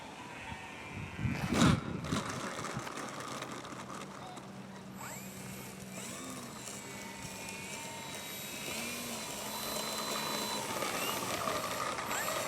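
A small E-flite RC plane, a Cirrus or Cherokee model, comes in to land, its electric motor whining and buzzing with changing pitch under outdoor wind noise, after a sharp click near the start.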